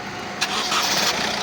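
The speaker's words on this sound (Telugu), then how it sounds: "ఇంజిన్ స్టార్ట్ చేస్తాను చూడండి." A Honda WR-V car engine cranks and catches, a short burst of starter noise followed by a steady, fairly loud running hum close by.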